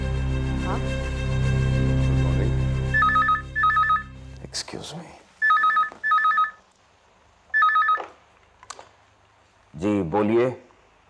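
A telephone rings in repeated short electronic bursts, clear and close, after a stretch of low background music, with a voice speaking briefly near the end.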